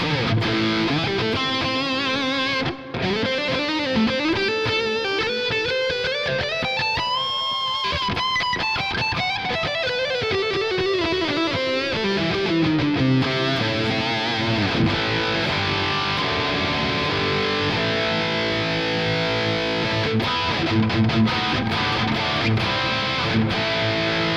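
Distorted electric guitar running through a ToneX amp model inside Amplitube 5, loud and continuous with sliding lead lines rising and falling over sustained chords, dense and saturated throughout.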